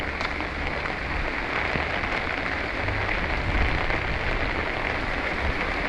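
Typhoon rain pours steadily onto surfaces in a dense, constant hiss with scattered drops, loud and close, with no voices.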